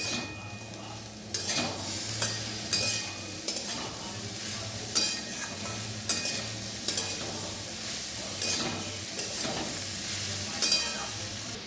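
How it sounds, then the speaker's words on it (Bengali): Chopped onions fry and sizzle steadily in a pan, with repeated scraping stir strokes every second or so over a constant hiss, close and moderately loud, with no talking. "দেখো নাড়ছি, ফ্রাই হচ্ছে।"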